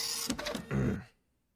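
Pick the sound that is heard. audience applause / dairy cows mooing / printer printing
printer printing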